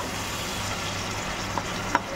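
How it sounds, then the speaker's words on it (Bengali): Chicken pieces frying in a pan with a little turmeric and salt, a steady broadband sizzle throughout with two faint clicks near the end, no talking. "এই দেখো বন্ধুরা, এখন ভালো করে আমি চিকেনটা ভেজে নিচ্ছি।"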